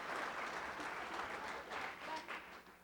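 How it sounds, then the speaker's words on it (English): A room full of people applauding at a parent-student evening event, a steady wash of clapping sustained throughout at moderate volume. "Give a round of applause for Professor Baker, please."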